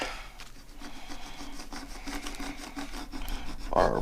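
Permanent craft vinyl burnished for a Cricut project, a steady close rubbing and rasping scrape running continuously, slightly louder toward the end, with no talking.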